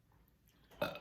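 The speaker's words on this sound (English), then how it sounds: "Soft burping sounds, because this Heineken is giving me soft burping sound" A single soft burp after drinking Heineken beer, short and close, rising suddenly out of near silence with a brief gravelly tail.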